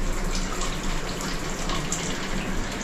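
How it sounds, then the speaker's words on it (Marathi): Water runs from an overhead bathroom shower in a steady, even hiss that fills the space at moderate loudness, with no talk over it. "एकदा त्याचं वरचं शॉवर पण जरा उघडा"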